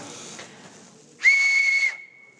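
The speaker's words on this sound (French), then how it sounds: "ce sont des sifflets de la préhistoire" A prehistoric whistle made from a small perforated reindeer bone gives one sustained, piercing high tone for under a second, sounding alone after a brief stretch of soft breathy noise.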